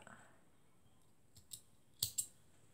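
Scissors snip through crochet yarn while an angel ornament is finished: a couple of quiet clicks, then two sharp close snips near the end over a faint hum.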